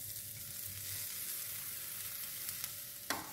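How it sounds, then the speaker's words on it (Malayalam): Spinach fries with a steady sizzle in a pan while a ladle stirs it, garlic and curry leaves just added. A soft scrape sounds near the end, with no voices. "ഒരു തവി വെച്ച് ഇളക്കി കൊടുക്കാം."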